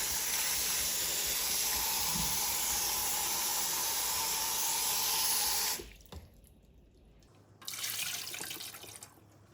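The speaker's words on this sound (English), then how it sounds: "And so I'm going to wash the potatoes." Running tap water rushing steadily over potatoes being rinsed in a sink, close and continuous, then the flow stops briefly and resumes with softer splashing.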